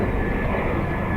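Airliner noise at Dublin Airport during arrivals, a steady broadband engine roar, loud and continuous through the short stretch with no voices heard.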